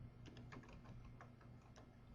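Computer keyboard typing, quiet and close, with a quick irregular patter of light key clicks over a steady low electrical hum, no voices.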